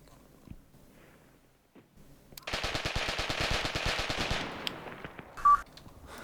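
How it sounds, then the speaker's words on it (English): Rapid burst of machine gun fire in the war game Graviteam Tactics Mius, a fast loud rattling volley of shots lasting about two seconds and trailing into scattered reports, after a short quiet stretch. "That was a machine gun."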